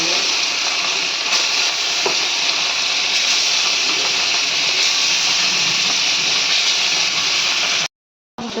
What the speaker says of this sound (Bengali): তেলটা গরম হলেই মাছটা ভাজতে দিয়ে দেবো। গরম হয়ে গেছে